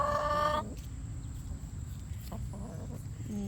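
Brahma hens on a green backyard run after rain, one loud close cluck-like call at the start followed by quieter scattered clucks and soft farm ambience.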